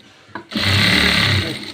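A sewing machine starts up after a brief click and runs in a steady, close whirring burst, stitching an A-line frock seam, with no voices present.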